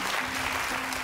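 Romanian TV studio audience applauding, a dense steady wash of clapping that fills the whole moment, with a faint voice or hum running underneath.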